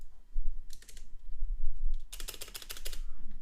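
A name is typed into Notepad on a computer keyboard: a short burst of clicks, a pause, then a denser run of close, crisp keystrokes.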